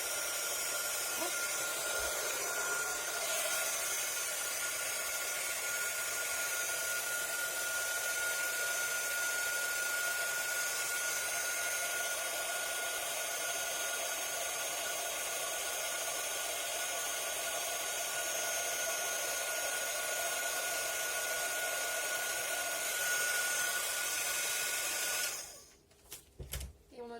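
Heat tool blowing steadily on a handmade Christmas card, a loud, constant airy whir lasting almost half a minute before switching off, with a faint voice briefly at the end.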